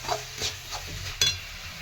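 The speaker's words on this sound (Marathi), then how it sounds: "आपल्याला व्यवस्थित परतून घ्यायचं आहे तेलावरच." Stir-frying in oil in a pan for a drumstick-leaf dish, with a faint sizzle under a few brief scrapes and clinks of a spoon against the pan, close and without talk.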